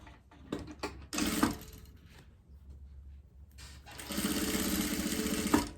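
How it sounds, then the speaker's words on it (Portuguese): Sewing machine stitching a closing seam on a fabric phone pouch, with short taps and a brief burst near the start, then a long steady run of stitching close by, with no talk. "vamos passar uma costura aqui pra fechar ela"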